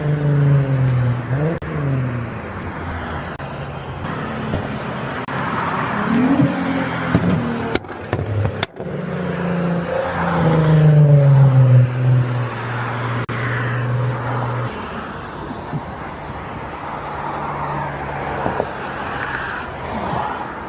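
Infiniti VQ engine with a Tomei exhaust and UpRev tune revs loudly and close, its pitch climbing and falling through several throttle blips before settling into a rough idle.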